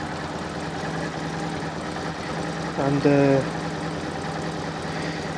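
A Fiat Panda 4x4 Sisley, running smoothly with all trim fitted, idles with a steady low engine hum; someone briefly speaks over it partway through.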